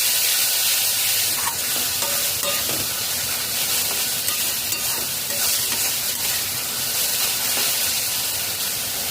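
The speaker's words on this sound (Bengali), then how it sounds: "মশলা কষানোর জন্য একটু জল অ্যাড করে দেব" Ground spices frying in a pan with a few tablespoons of water added for a Bengali bhetki fish-bone curry, giving a steady close, loud sizzle and steamy hiss with occasional stirring scrapes throughout.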